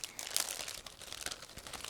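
A resealable plastic bag holding parts of a 1/48 Special Hobby Reggiane Re.2000GA model kit is pulled open, giving a quick, close run of crinkling and tearing plastic.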